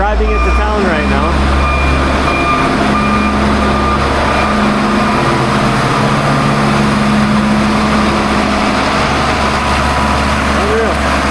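A truck with a suspected broken wire or fried ECM rumbles steadily while being driven to town, a loud, continuous low engine drone heard from inside the cab throughout.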